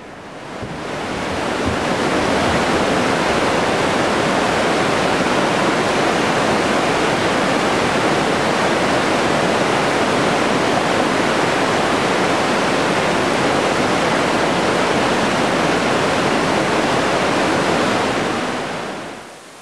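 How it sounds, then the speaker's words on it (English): The glacial Aare River churns through its gorge in a loud, unbroken rush of white water that swells in at the start and fades out at the end, with no voices. "The glacial downhill streams we follow converge as the Aare River, churning through the gorge bearing its name."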